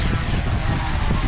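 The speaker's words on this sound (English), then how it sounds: "Chris, we've got a drone in the background" A police drone takes off outdoors in a blustery spot, its propellers giving a loud, steady, close whirring buzz mixed with wind rumble.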